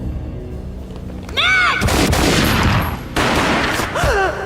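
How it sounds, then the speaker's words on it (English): In the Max Payne video game, loud booming gunfire bursts out in two heavy blasts over dramatic game sound, with whooshing swept tones before and after. "A gunshot boomed and she fell down in slow motion"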